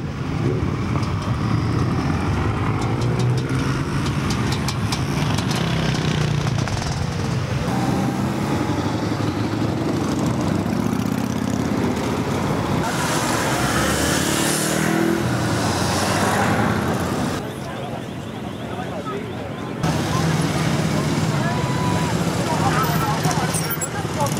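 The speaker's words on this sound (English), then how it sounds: "the whole of Merseyside has been taken over by motorbikes today" Motorbikes in a large convoy across Merseyside rumble and rev in a continuous loud roar, with engines passing close by and a voice talking over the din throughout.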